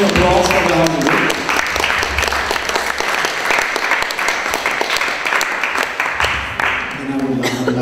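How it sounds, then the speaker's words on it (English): Audience applause at an improvisation session for a city council, a burst of many hands clapping close and loud, with tonal sound at the start and end. "And some applause for the housing group."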